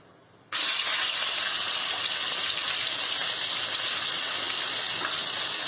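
Onion paste dropped into hot oil with cloves, cinnamon, cardamom and bay leaf, bursting into a loud, sudden hiss that holds as a dense, even sizzle.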